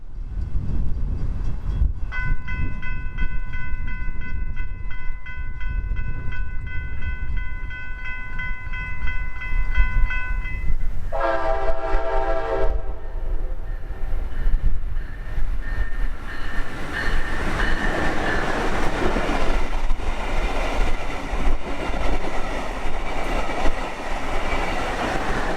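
A northbound FEC freight train led by BLF 722 passes near West Palm Beach, South Florida. Sustained horn tones sound loud and close, then the steady rumble and clatter of the wagons rolls on through the rest of the clip.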